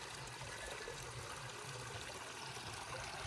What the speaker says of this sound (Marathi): आता पाणी घेतो बरोबर पाणी पाहिजे